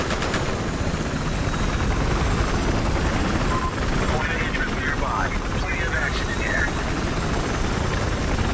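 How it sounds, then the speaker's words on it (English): Enemy helicopter in the video game Battlefield Hardline, a continuous loud rotor thrum with distant gunfire mixed in, steady throughout. "And the enemy chopper's up there."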